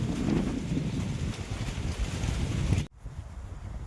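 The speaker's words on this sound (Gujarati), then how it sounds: "2 વાગ્યાનો વાવાઝોડા જેવો પવન ચાલુ થયો છે." Strong storm-like wind blowing steadily at an outdoor spot, a loud continuous rushing roar buffeting the microphone that cuts off abruptly near the end, leaving a quieter hiss.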